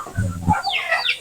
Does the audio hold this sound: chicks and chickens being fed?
yes